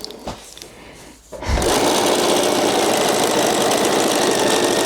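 A sewing machine stitches the last corner of a fabric un-paper towel, starting after a brief quiet pause and then running as a loud, steady, continuous mechanical whir through to the end.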